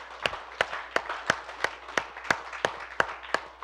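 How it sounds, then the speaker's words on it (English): A church congregation claps hands in a steady, even rhythm of about eleven sharp claps, fairly quiet and heard alone. "Give him a hand clap this morning."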